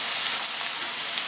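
Vegetables and carrots sautéing in a pan for Hakka-style chicken noodles give a steady, close broadband sizzle that holds even throughout, with no talking over it.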